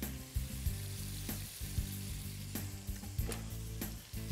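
Onion and garlic fry in a pan for a chicken, rice and chouriço dish, giving a steady, close sizzle with faint stirring scrapes and no talking.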